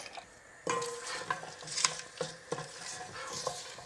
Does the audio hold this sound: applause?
no